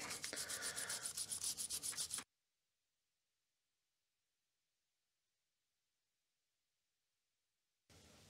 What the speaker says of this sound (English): I have used my fiberglass pen to clean off as much as possible on the chips and also on to the board